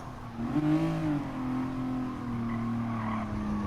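A Renault Clio race car downshifting into a turn at the Catalunya circuit, engine revs rising and falling through two quick downshifts, loud, close and continuous with some tire noise.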